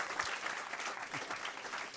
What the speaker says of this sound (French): On applaudit André, s'il vous plaît.